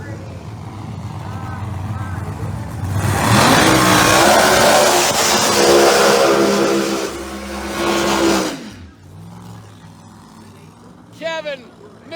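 A small block turbo Pro Mod drag race car, with a broken transmission, roars loudly at a drag strip, building to a sustained howl for several seconds before cutting off, with crowd noise and announcer talk around it.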